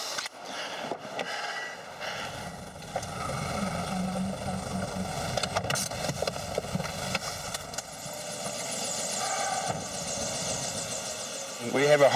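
A helicopter runs at a heliport in New Zealand, a steady rotor and engine drone holding throughout with voices talking over it near the start.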